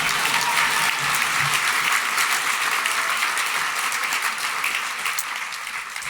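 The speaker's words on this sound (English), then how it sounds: "You can clap, I see" A gala audience breaks into full, dense applause, a steady wash of clapping from a large crowd that tapers slightly near the end, with little talk over it.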